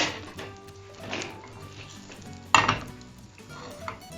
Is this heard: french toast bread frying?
yes